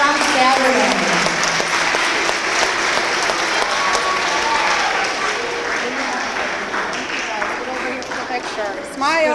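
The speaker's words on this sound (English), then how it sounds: "Let's give those guys a big round of applause for coming out on Saturday" A school academic awards audience claps steadily and loudly for several seconds, a dense wash of applause with some voices and cheers mixed in near the end.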